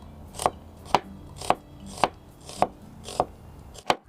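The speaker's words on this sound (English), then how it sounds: "We've chopped the onion too." A knife chopping onion into thin strips on a board, seven crisp evenly spaced thuds about half a second apart, close and distinct with no talking.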